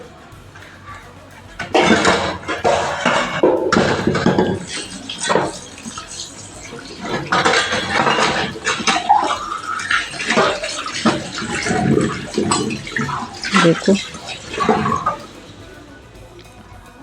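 Dishes scrubbed with a homemade salt and baking soda dish wash are rinsed under running water, splashing in loud bursts while a voice talks over much of it.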